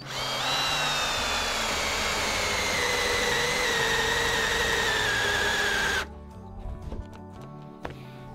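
A Makita HP457DWE 18V hammer drill whines steadily at close range, driving a 16 mm bit for about six seconds before stopping abruptly, leaving a few faint clicks and rattles.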